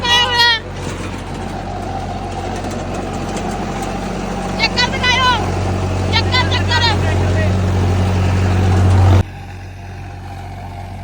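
A heavy tractor engine drones loudly and steadily at close range, rising slightly before cutting off abruptly, while someone speaks over it.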